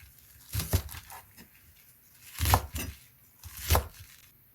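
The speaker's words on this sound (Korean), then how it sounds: "쪽파를 준비해요. 잘라줄게요." Green onions being chopped with a knife on a board, three separate bursts of quick thudding cuts spaced about a second apart, close and crisp with quiet pauses between.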